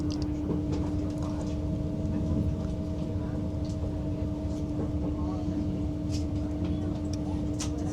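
A Southeastern high-speed train rolls into St Pancras International, a steady low rumble and tonal hum from the carriage interior with faint scattered clicks and rattles, and a voice speaks quietly over it.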